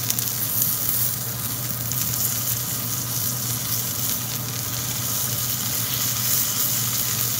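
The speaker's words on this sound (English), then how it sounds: "I sear it up on all sides" A New York strip steak sears in a hot pan, giving off a steady, loud, close sizzle and crackle of frying fat that runs unbroken throughout, with no talking.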